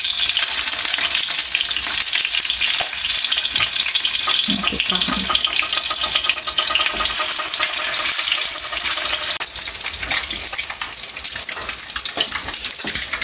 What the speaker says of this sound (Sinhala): බිත්තර ටික චුට්ටක් මේ වටේ බැද ගන්න ඕනේ